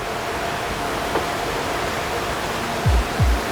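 A river rushes at Caripe, its steady broadband roar filling the scene and close by, with two low thumps near the end.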